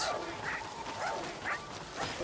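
Dog in the video game Pikmin 4 giving short yipping bow-wow barks, roughly four separate calls at an even pace over background game music.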